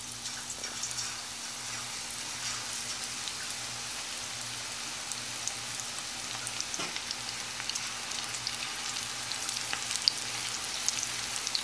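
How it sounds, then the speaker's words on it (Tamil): Onion pakoda frying in hot oil, a continuous fine crackling sizzle with scattered pops, steady and fairly quiet throughout. "எண்ணெய் சூடாயிடுச்சு, இப்போ கொஞ்சம் கொஞ்சமாக போட்டு எடுத்துடலாம்."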